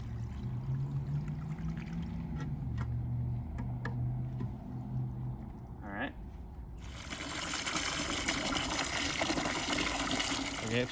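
Water drains out of a garden fountain reservoir, a continuous gushing and trickling flow close by that grows fuller and louder in the second half.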